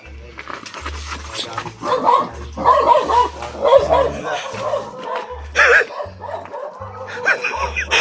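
A dog barks and yips in short bursts, sometimes near and sometimes farther off, with whimpering between, laughter, and a few voices underneath.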